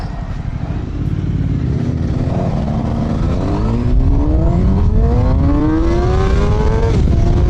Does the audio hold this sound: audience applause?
no